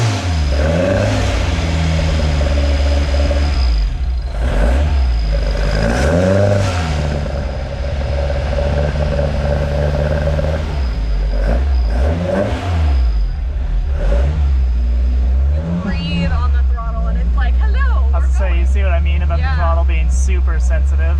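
A Toyota 4AGE engine on dual Weber carburetors fires up and is revved in repeated rising and falling blips, loud and close, with people talking over and between the revs.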